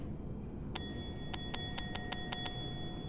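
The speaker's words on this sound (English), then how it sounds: "let's ring the bell" A bell rung in the modded video game Fallout 4 gives about eight bright metallic strikes. After one opening ring and a short pause, the rest follow in a quick, even series with clear ringing tones over a low background hum.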